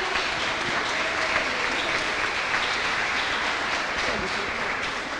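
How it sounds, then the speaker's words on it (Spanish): Applause from a youth audience in a packed legislative hall welcoming a deputy, a dense steady wash of clapping throughout, with faint voices mixed in. "Quiero que recibamos con un fuerte aplauso a la diputada Karina Paz."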